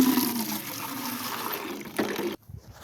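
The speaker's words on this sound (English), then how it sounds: "Wash out the mash bucket." A farm mash bucket is rinsed out with water, a steady close splashing and gushing that runs for over two seconds before cutting off abruptly, leaving a few faint drips.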